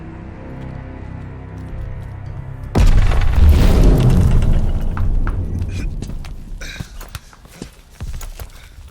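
An artillery bombardment on Omaha in the Call of Duty Vanguard game: a low rumble builds, then a loud booming blast hits near, followed by crackling debris and scattered smaller impacts as the roar fades.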